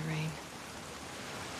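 Steady rain in The Last of Us Part II, a constant broadband hiss of falling water with a brief tonal game sound at the start, no talk in the clip.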